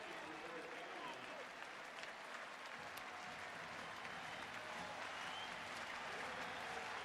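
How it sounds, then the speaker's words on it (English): Stadium crowd applauding as the Montana punting unit takes the field at an Iowa college football game, a steady wash of clapping and cheering heard from a distance for the whole stretch. "A round of applause as the Montana punting unit comes on."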